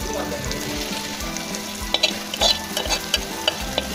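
Tomatoes and vadi being stirred into a hot masala in a pan, with a close, continuous frying sizzle and irregular clinks and scrapes of a stirring spoon.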